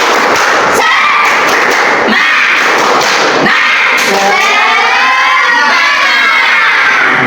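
Group of classroom participants doing rhythmic spirit clapping (tepuk semangat), loud sharp claps in quick patterned bursts mixed with shouted voices, close and energetic.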